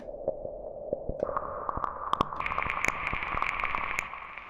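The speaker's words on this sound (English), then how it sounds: "the noise by itself doesn't sound tonal at all" Raw noise from Serum's noise oscillator, a hissy wash with faint pitched bands stepping upward and scattered crackling clicks, steady and fairly quiet with no voices.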